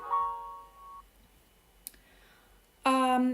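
In a point-and-click adventure game, a soft tone sounds briefly, then a single faint mouse click on a paper near a sewing machine, followed by a bright chiming electronic blip; quiet interface sounds with no talking.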